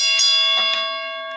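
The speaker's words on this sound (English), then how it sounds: "Let's hit the Ali Bell for Arlette." A bell sound effect rings out once on a boxing livestream, a bright metallic strike with steady harmonic overtones that slowly fade, clear and alone.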